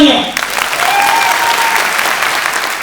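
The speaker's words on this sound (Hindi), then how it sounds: "जोरदार तालियों के साथ तरुण ऑफलाइन ब्रांच इंदौर के लिए जोरदार तालियां" Loud, dense applause from a large crowd at a coaching institute meetup in Indore, steady and sustained after a brief voice at the start, with a few whistles cutting through.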